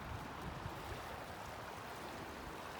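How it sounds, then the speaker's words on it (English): A wide mountain river on a valley hiking loop near Fryatt rushes steadily as a dense, continuous roar, fairly loud and alone, with no voices. "This is quite the river."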